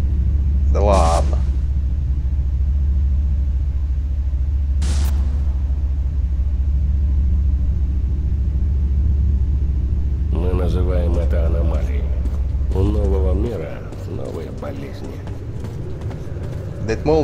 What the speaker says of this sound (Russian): Да это молния шаровая.